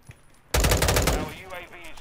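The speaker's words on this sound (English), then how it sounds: "This is me shooting by myself." Rapid automatic fire from a stock M16 with no attachments in Modern Warfare 2, a loud dense burst of shots starting suddenly after a short quiet, then fading into a lingering echoing tail.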